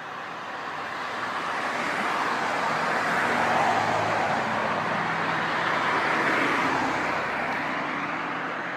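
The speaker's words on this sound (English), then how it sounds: "Every time cars pass, I have to slow down" Steady traffic on a road as cars pass close by, a continuous loud broadband whoosh swelling and fading slightly over several seconds, with no talking.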